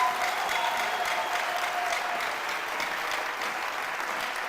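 Church congregation applauding the Lord, a dense, steady burst of clapping from many hands that fills the room evenly and fades slightly toward the end, with no voices on top.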